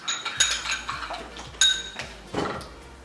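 Pickles being stirred with chamoy and lime in a bowl, quick clinking and scraping of a utensil against the dish in short bursts, close and fairly loud, with no talk over it.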